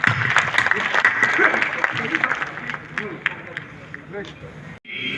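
Audience at a large Rajasthani poetry gathering claps together in a dense burst, with crowd murmur and voices mixed in, then tapers off and cuts out near the end.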